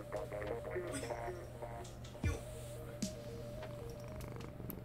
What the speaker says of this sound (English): Okay, now you can definitely hear purring.